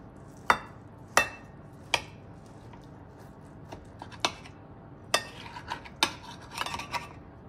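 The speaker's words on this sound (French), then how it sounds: "Et je vais prendre le chou-fleur. Que je vais couper avec vous." A knife cuts through a cauliflower on a board, sharp separate chops and clicks at irregular intervals, close and fairly crisp against a quiet background.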